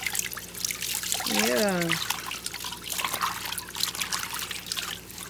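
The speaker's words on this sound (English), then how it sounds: "Mommy gonna finish rinsing you off, buddy" Running water trickling and splashing while a dog is rinsed off during a bath, a steady close wash of liquid with a brief spoken word over it.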